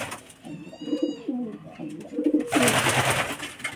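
Pigeons coo in an ornamental aviary, soft rounded calls repeating close by, followed by a louder burst of rustling wing flaps and bird calls.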